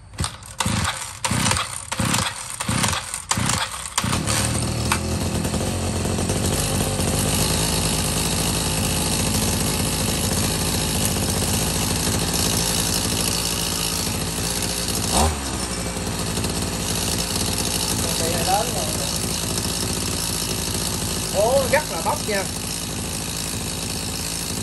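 A Shindaiwa S231 23cc backpack brush cutter with a 32 mm cylinder is pulled over several times with short bursts, then runs steadily and loudly at a smooth idle for the rest of the clip.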